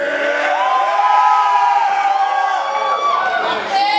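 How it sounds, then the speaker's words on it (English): A live concert crowd cheers and shouts loudly and continuously, a dense close wash of voices with whoops rising through it. "I'm glad you guys cheer."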